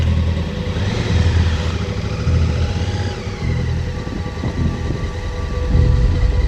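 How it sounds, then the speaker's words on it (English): Motorcycle riding along with a steady rumbling engine and road noise, a rough continuous grinding from the rear wheel running under it, loud and close, with no one talking. "Daren's bike's rear wheel started making a very concerning grinding sound"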